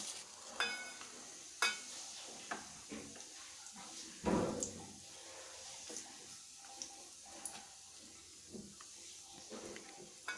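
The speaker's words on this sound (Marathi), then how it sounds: "हे सगळे मसाले आता तेला थोडे परतून घ्यायचे" Whole spices (cinnamon, cumin, green cardamom, cloves, black peppercorns and star anise) sauté in hot oil for shahi paneer, giving a faint steady sizzle with scattered ticks and scrapes and one louder stirring clatter midway.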